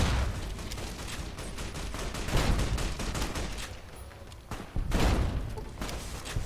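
Explosive anti-material rifle gunfire in Fallout: New Vegas: loud, booming shots over a dense wash of continuous firing, with heavy blasts standing out around the middle and near the end of the stretch.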